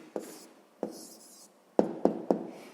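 Pen writing an answer by hand on paper during a sixth-grade maths exercise: a few short scratchy strokes, two spaced apart and then three quick ones close together, near and fairly quiet, with no talking.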